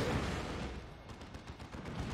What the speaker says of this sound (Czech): to není tank, to co tady po mně střílí